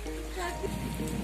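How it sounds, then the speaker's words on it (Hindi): Heavy monsoon rain pours steadily over a flooded neighbourhood lane, a dense, loud wash of falling water, while someone talks over it. "बरसात में हमारे गली मोहल्ले में बाढ़ आ गई है"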